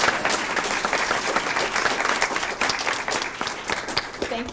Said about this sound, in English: please join me in a congratulatory applause